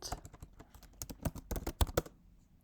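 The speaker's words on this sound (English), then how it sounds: "type your password" Password being typed on a MacBook keyboard: a quick run of soft, close key clicks with uneven rhythm, several sharper taps standing out, no voices.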